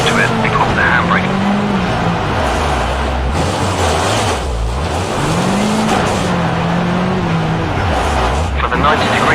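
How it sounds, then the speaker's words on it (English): Rally car engine in Richard Burns Rally droning and rising and falling in pitch as it skids under the handbrake into a hairpin, loud and continuous with a gritty tyre scrub underneath. "Before the corner, turn hard into it and hold the handbrake."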